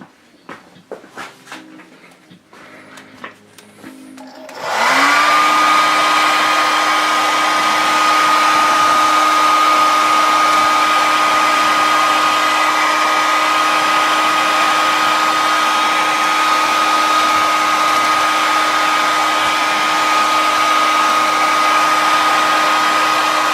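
A handheld hair dryer blasts hot air to dry paint on a hobby model. After a few seconds of light handling clatter it switches on and runs as a loud, steady, close whine for the rest of the clip.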